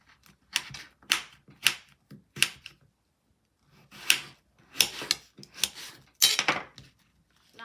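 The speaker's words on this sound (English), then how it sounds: "Cut this bottle gourd into cubes, small cubes," A kitchen knife chops bottle gourd into small cubes on a board, giving crisp, sharp taps in quick bursts with a short pause in the middle.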